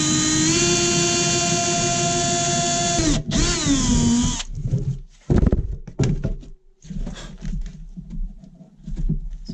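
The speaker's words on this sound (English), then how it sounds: "I've got this 13/64 drill bit, and I'm just going to drill a hole through it," A power drill with a 13/64 bit whines loudly for a few seconds drilling through plastic, dips, then winds down, followed by scattered knocks and rattles of plastic being handled.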